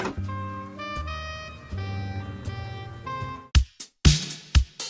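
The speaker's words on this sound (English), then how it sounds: "I wrote a artificial saxophone melody in this verse." A synthetic saxophone-like lead plays a short melody, then a few punchy drum hits cut in near the end.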